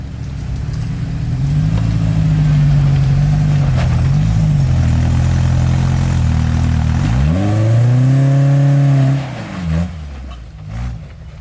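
A four-cylinder off-road vehicle revs hard while rock crawling on a trail, the engine climbing and falling in long steady surges, loud and close, before dropping off near the end.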